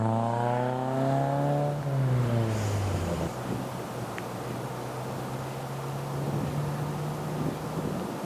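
Classic Alfa Romeo with hard suspension drives over a low-level bridge on an MG rally event, a steady engine drone with a gear-change sweep early on, then a sustained low hum and road rumble under wind noise.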